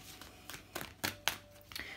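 Cards from a thick tarot deck are shuffled close by in a quick series of soft riffling, snapping bursts, faint and alone.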